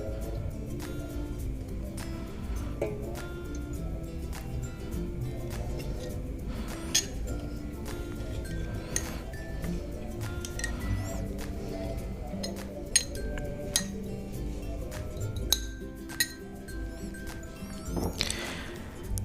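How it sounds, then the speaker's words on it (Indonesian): A spoon clinks repeatedly against a glass while lime juice and hot water are stirred together, giving bright, irregular taps over a steady low background hum, with a louder cluster of clinks near the end. "lalu kita kasih air panas sebanyak 3 sendok makan"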